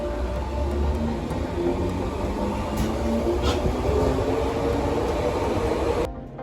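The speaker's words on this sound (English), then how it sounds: "This is the interior of the train." Steady rumble inside a moving passenger train on the way to Chester, with continuous broadband rolling noise and low hum throughout, cutting off abruptly near the end.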